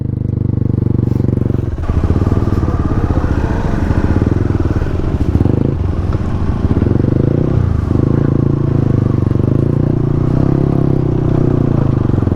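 Motorcycle engine pulling gently and steadily up a slippery climb on a winter road trip in Chhattisgarh, a loud, continuous drone with slight surges and dips in throttle, close to the rider.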